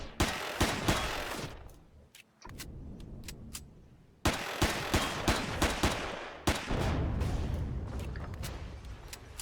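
Gunfire in the video game Empyrion: rapid bursts of loud, close automatic shots with sharp cracks, breaking off briefly and resuming, over a rumbling background and with no talking.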